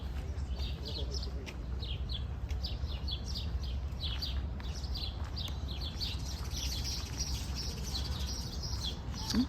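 Birds in New York's Central Park chirp in quick, repeated bursts that keep coming throughout, over a steady low outdoor rumble.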